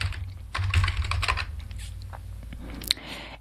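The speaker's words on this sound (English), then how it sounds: "type in ebook" A computer keyboard typed on in a quick close burst of clicks, followed by a few scattered taps and a sharp single click near the end, with no talk.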